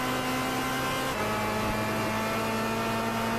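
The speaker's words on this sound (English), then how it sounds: "I do like the sound of this car, but I just wish it had the turbo" A car engine in the racing game Gran Turismo 6 hums at a steady, moderate drone, its pitch shifting once partway through as the revs change.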